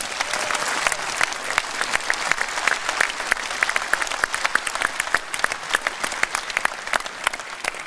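Sustained applause from a large indoor political rally crowd in West Yorkshire for the candidates, dense overlapping claps with sharp individual hand strikes standing out, steady and loud throughout with a faint murmur of voices underneath.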